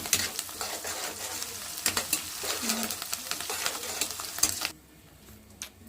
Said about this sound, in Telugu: క్యారెట్ బీట్రూట్ దొండకాయ వేసుకొని ఫ్రై చేసుకోవాలి